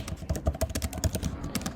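Rapid, irregular clicking of keys on a computer keyboard, close and steady for the whole stretch with no voices.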